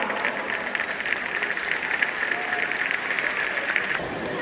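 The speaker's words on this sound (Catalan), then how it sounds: "Un fort aplaudiment pels capgrossos dels infants de tercer i quart de primària." Audience applause for the children's big-head festival figures at a school presentation, a steady patter of clapping from a crowd, moderately loud and continuous.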